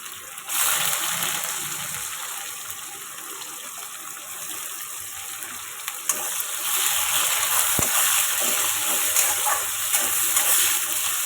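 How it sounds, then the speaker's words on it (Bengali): Chopped onions going into a pan of frying chicken gizzards and liver, giving off a steady loud sizzle and hiss that swells as they hit the hot oil and keeps going without a break. "কেটে রাখা পেঁয়াজগুলো দিয়ে দেবো"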